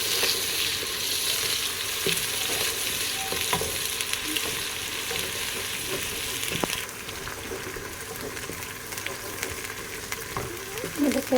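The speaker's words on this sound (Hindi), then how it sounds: "देखिए अच्छे से भुनाई हो रही है अदरक लहसुन की भी।" Ginger garlic paste fries in hot oil in a pan while being stirred, giving a steady loud sizzle with scraping spoon sounds and occasional clinks, no talking.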